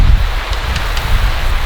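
Wind gusting across a campsite during heavy monsoon rain, a steady broadband rush with low rumbling buffets at the microphone that runs continuously through the whole stretch.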